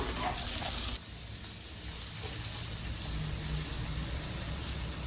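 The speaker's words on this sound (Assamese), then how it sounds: "পিঁয়াজটো ভালকৈ ভাজি আছে" Onions fry in a pan for a traditional Assamese chicken dish: a steady, dense sizzle with a louder, brighter burst in the first second before it settles into an even crackle.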